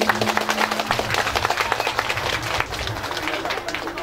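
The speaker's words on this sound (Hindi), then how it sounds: "एकपटक जोरदार ताली सहित" Audience applause at a religious discourse event on the Srimad Bhagwad Mahapuran, dense steady clapping from a crowd filling the whole stretch, fairly loud, with a low tone and murmur underneath.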